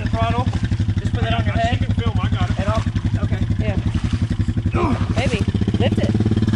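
A motorcycle engine revs under throttle in a steady pulsing rhythm, with rising and falling pitch swells as the throttle is worked, loud and close while voices talk over it.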